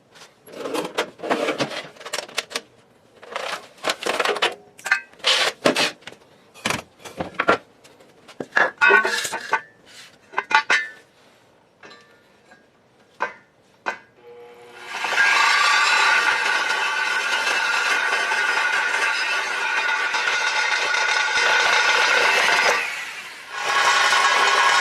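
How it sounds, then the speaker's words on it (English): A Sawzall reciprocating saw cuts through a wooden mailbox post with a steady, loud, continuous buzzing rasp for about ten seconds, after earlier intermittent knocks, rubbing and handling noises of setting up the wood. "take probably a Sawzall and cut off these extra pieces that I don't need"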